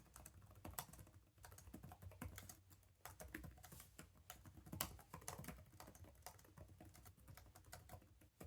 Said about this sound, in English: let's just do a normal typing test